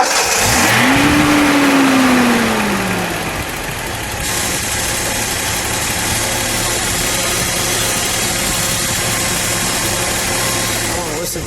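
A 1976 Datsun 280Z 2+2 with a four-speed runs with a steady, close exhaust note, a brief rising-falling rev near the start settling into an even idle, with some talk underneath.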